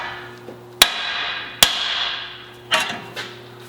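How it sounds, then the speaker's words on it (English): A hammer striking a truck's tie rod end to knock it loose, four sharp metallic blows at irregular intervals, each ringing briefly before fading, close and loud with no talk. "just taking your hammer and hit this right here really good"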